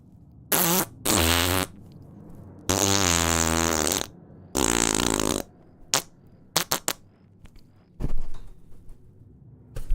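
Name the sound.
mouth imitation of fart noises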